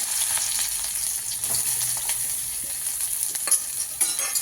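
Chopped onion and garlic fry in oil in a pan, giving a steady high sizzle with occasional soft scrapes and clinks from stirring.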